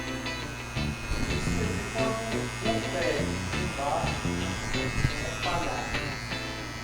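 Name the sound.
electric hair clippers marking the neckline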